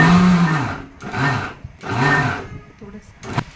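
Kitchen mixer grinder chopping onion and tomato into a coarse paste, whirring in three separate bursts that rise and fall, loud and close, with short pauses between them.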